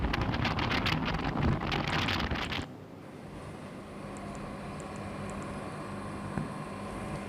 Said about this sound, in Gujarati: કચ્છના મુન્દ્રા પોર્ટ પર પણ ભારે પવન ફૂંકાયો